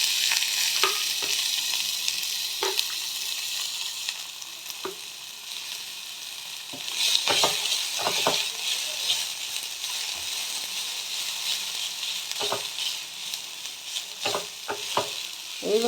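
Grated onion, green chili and beet frying in a pan, a continuous bright sizzle with occasional spatula knocks and stirring scrapes, close and moderately loud, no talking.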